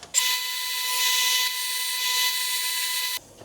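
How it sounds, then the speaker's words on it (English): A power drill whines steadily at high speed for about three seconds as it shapes a threaded part into a ball fitment during a MK4 Escort 2.0 TFSI engine conversion, starting and stopping abruptly. "let's shape that in drill now and try and get it to like a really nice ball fitment"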